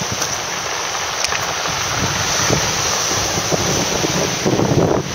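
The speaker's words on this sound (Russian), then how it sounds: "вечный прибой" Constant sea surf rolling onto the shore of a remote Arctic island off Taymyr, a steady loud wash of breaking waves with heavy wind buffeting throughout and no voices.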